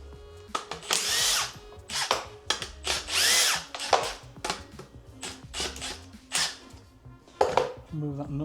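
A power tool drills away at a bolt on a vehicle's back axle in a garage, whirring in repeated short bursts with metallic clinks and rattles between runs.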